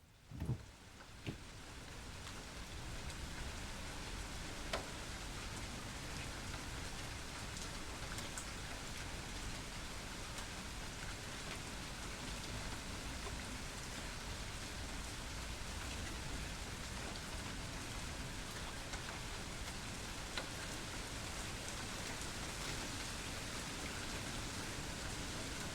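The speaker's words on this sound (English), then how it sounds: "enjoy the rain" Steady rain falls throughout as a soft, even hiss of drops on surfaces, faint and constant over a long stretch, with no voices.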